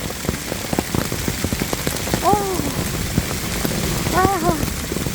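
Hail falls on a mountain trail during a sudden hailstorm, a steady dense clatter of countless small impacts nearby, with a person's brief pained exclamations heard over the din.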